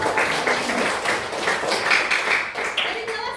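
Classroom applause from students after a chemistry lesson on ions, a steady wash of many hands clapping at once, fairly close and continuous for a few seconds.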